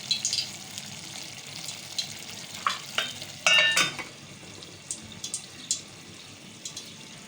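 Keema karahi, minced meat in a karahi, sizzles softly over low heat while resting on dum. A faint, steady hiss carries a few light clinks and short crackles.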